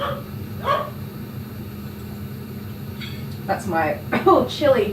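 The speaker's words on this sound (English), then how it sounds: "that was my dog's barking because the neighbours are having work done" A dog barks several times in quick bursts, nearby, because the neighbours are having work done, while someone talks over it. A steady hum of air conditioning runs underneath.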